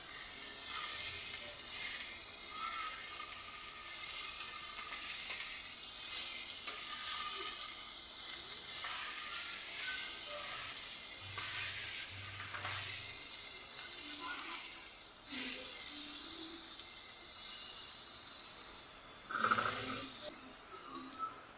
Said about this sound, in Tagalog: At ilagay na natin yung ating hipon. So, mix lang natin.